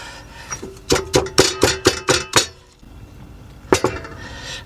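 Chopped chillies and garlic pounded into Thai paste for grilled chicken, a run of about seven sharp rhythmic thuds and clinks close up, then a pause and two more strikes near the end.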